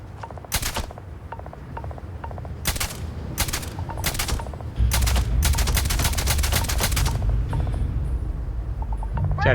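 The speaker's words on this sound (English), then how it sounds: "I'd rather shoot them now than have to fight them up close." Gunfire in the video game Starfield, sharp loud bursts and rapid strings of shots separated by short pauses over a steady low rumbling background, with no talking.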